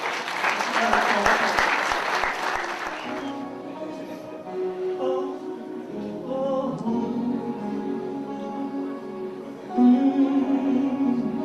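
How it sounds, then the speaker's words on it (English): Loud audience applause at a World Arm Wrestling Championships opening ceremony, dense clapping lasting about three seconds, then fading out as a music track with sustained tones takes over. "let's have once again a big round of applause"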